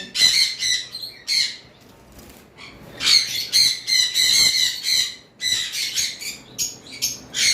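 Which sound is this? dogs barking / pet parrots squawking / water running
pet parrots squawking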